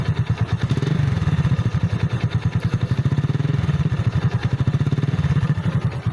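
A Hero Glamour motorcycle in showroom condition idles steadily, its engine giving a loud, close, even stream of rapid thumping pulses with light mechanical clatter throughout.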